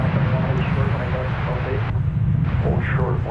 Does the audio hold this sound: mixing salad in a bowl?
no